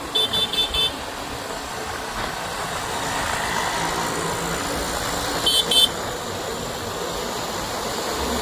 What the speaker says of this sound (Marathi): ही इंदापूरची ट्रॅफिक बघा